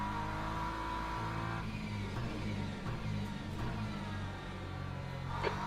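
A race car engine droning steadily in the racing game Le Mans Ultimate, a loud continuous roar with shifting pitch as the car runs through gears, a brief higher burst near the end.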